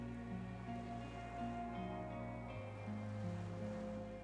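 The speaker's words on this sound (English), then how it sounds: "The skiff is swaying on the waves by the dock." Water laps against a small wooden skiff moored by a dock in Disco Elysium, a steady wash of waves beneath low sustained drones and tones, with no voices.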